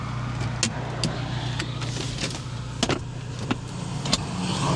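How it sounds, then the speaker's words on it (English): Electric soft-top roof of an Abarth 124 Spider being raised by hand, with a steady low mechanical hum under scattered sharp clicks and latch knocks, close and fairly loud. "this roof's going to have to come up"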